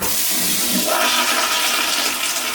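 A lake house toilet flushes loudly and close by, a steady rushing, swirling gush of water that continues throughout with no voices.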